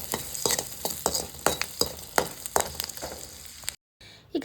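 Chopped onion fries in butter in a pan, a steady sizzle broken by repeated scraping stirs at an even rhythm, close and clear, with a brief gap near the end.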